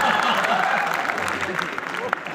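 Audience at a comedy show claps in a dense burst that tapers off, heard under a voice speaking over it.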